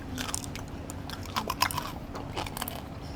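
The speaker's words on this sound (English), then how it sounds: "We'll stay silent so you can hear the crunch." Close, crisp crunching and biting on Malaysian food, several quick crackly bites over steady background noise, with no talking.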